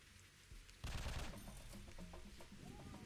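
Video-game gunfire from an M18: a sudden loud burst of rapid shots that breaks the quiet, then fades into scattered shots and effects. No one speaks.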